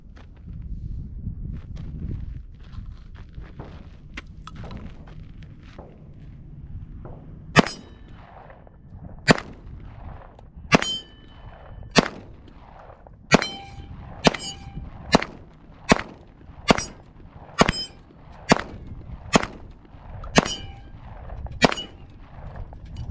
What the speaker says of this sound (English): Let's see if we hit anything on our first shots on the SIG 226